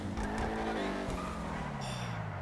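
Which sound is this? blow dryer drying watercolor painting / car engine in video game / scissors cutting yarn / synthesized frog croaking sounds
car engine in video game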